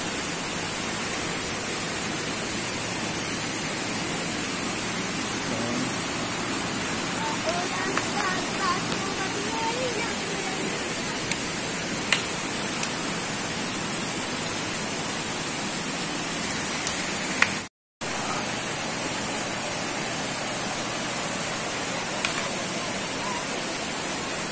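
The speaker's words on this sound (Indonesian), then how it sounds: "Ya sungainya kayak gini." A river flows past Jadung village at a border area, producing a steady, loud, broadband rush of water that continues unbroken for the whole stretch, apart from one brief dropout.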